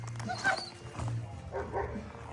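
Dog barks in short yipping bursts near an RV being cleaned, coming in a few separate clusters over steady low background noise, with a person talking nearby.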